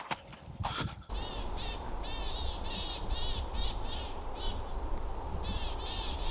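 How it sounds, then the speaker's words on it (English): After a brief knock at the start, a cluster of small songbirds chirps in quick repeated bursts, fairly close, over a steady outdoor forest background in Norway. "we could hear all of these small songbirds all of a sudden making a noise"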